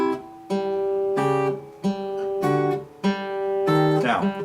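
Acoustic guitar playing Blackbird with chord fingers lifted too early: plucked chord notes in a steady rhythm that cut off choppily, close and clear without talk.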